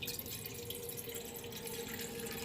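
Water is poured into a tea saucepan on a gas stove, a soft continuous trickle and splash, close but quiet, with no voices over it.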